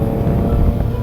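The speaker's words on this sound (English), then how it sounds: "you can hear the spark exhaust sound." Exhaust note of a Triumph Trident motorcycle while riding on a commute, a loud continuous low engine drone mixed with wind buffeting on the microphone.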